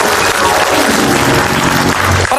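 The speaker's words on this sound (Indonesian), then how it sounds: "Tepuk tangan untuk Komeng." Studio audience applause for Komeng on an Indonesian comedy talk show, a loud, dense burst of clapping from a large crowd that fills the whole moment without any speech.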